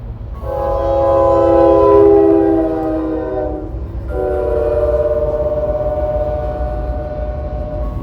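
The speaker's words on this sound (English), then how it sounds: "Let's wait for the train." A video-game train horn sounds in two long, loud harmonic blasts with a brief gap between them, over a steady low rumble of the passing train and no voices.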